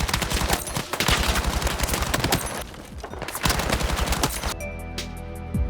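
Rapid automatic fire from a low-recoil gun with a 60-round magazine in Battlefield 6, dense sustained bursts with brief pauses, then a few isolated shots over a ringing tail, loud and close.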